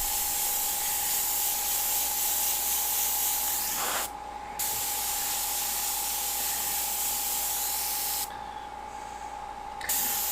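An airbrush sprays paint onto a Jack O Lantern mummy, giving a close, steady hiss over a constant high hum, broken by two short pauses in the spray.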